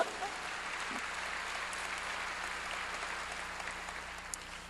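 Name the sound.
congregation applauding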